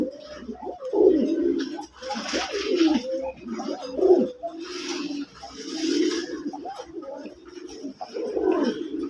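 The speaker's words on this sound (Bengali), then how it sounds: "এখানে যে কবুতরটা স্ক্রিনে দেখতেছেন এটা হচ্ছে একটা আকাশী নর, এটাকে বলে গোল ফটকা কবুতর" Pigeons, including a sky-blue male fancy pigeon, coo in repeated low rolling phrases, close and fairly loud, with soft background movement and no talk.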